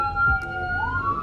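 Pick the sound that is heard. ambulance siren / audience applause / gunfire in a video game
ambulance siren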